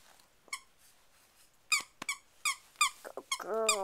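A dog squeaks a rubber toy indoors, making a few short, sharp squeaks scattered at first, then a quicker run of squeaks, ending in a longer, wavering squeal. There are no voices.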